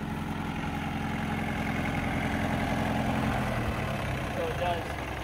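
A vintage Bugatti idles steadily after a hand-crank start, its engine giving a low, even, throbbing rumble close by, while people talk over it.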